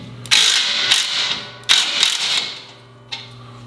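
A Ryobi ONE+ 18V impact wrench with a 3/8 anvil, model P263, loosening a bolt: three loud, close bursts of rapid mechanical hammering, each trailing off, with short pauses between.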